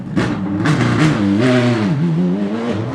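A GT race car at Indianapolis roars past close by, its engine pitch rising and falling loudly as it revs through the pass.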